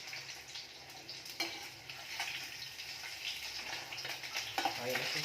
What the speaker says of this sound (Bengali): অয়েল একটু লাল একটু ভেজে দেবো, দেখুন লাল হয়ে গেছে।